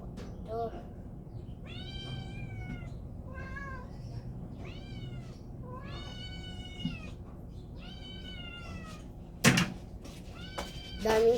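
Several cats meowing repeatedly indoors, a series of clear, fairly close, drawn-out meows one after another, followed by a couple of sharp knocks or thuds near the end.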